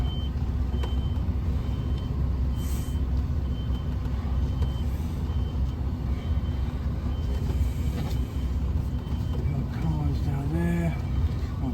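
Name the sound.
HGV truck reversing with reversing beeps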